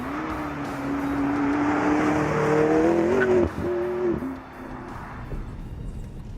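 A McLaren MP4-12C drives along a road, its engine note climbing and shifting as it accelerates, fairly loud and close before easing off toward the end.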